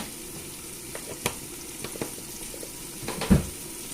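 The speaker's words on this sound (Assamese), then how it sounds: "এইখিনি এতিয়া মই ভালদৰে লৰাই ল'ম, ভাজি ল'ম, একদম ৰঙচুৱা হোৱালৈকে চাউলখিনি মই ভাজি থাকিম" Rice frying in a pan with meat masala and salt, a soft steady sizzle broken by a few sharp scrapes and taps of the stirring spoon, one louder knock near the end.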